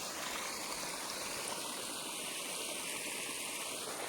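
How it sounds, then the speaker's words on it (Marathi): Water gushes from a bent pipe on a line, wasting in a strong stream: a continuous, dense rushing hiss, steady and fairly near, with no talking. "हे बघा पाणी भरपूर वाया चाललेलं आहे आपलं"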